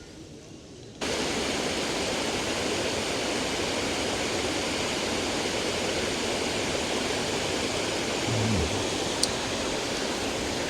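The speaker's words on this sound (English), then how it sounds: "here we're at the spillway just off Forge Dam. So this is the water coming off the top" Water pours steadily over the spillway at Forge Dam in Sheffield's Porter Valley, a dense, loud, continuous rushing roar that fills the scene without pause.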